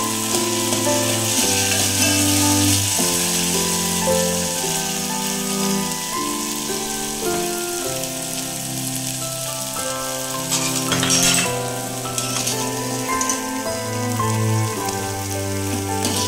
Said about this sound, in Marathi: मिरची व्यवस्थित तळून घ्यायची.